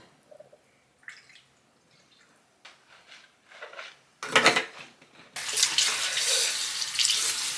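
Mouth rinsed with Listerine at a bathroom sink: a few small sloshing and spitting sounds, then the tap turned on and running steadily and loudly for the last few seconds, close up with no speech.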